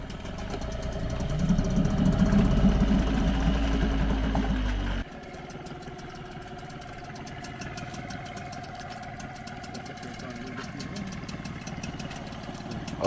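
A used outboard motor on a dinghy runs with the choke on, a steady mid-pitched idle that grows louder, then drops to a quieter, even putter that continues to the end.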